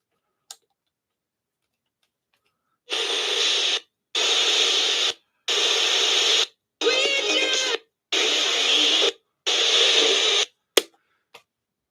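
A ghost box radio sweeps dry with no reverb in six regular bursts of harsh, choppy static and broken station fragments. Short gaps of silence separate them, and a few faint clicks sit at the start and end.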